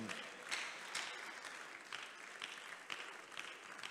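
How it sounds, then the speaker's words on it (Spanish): A church congregation in Houston applauds during a Spanish-language worship service: sustained clapping from many hands, heard somewhat distant and soft, swelling in a few small peaks and carrying on steadily throughout. "Un aplauso al Señor."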